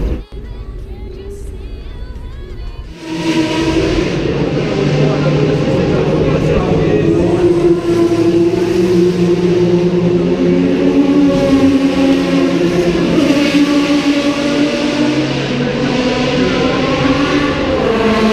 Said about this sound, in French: Maintenant je vous présente une Ford Torino dans un état irréprochable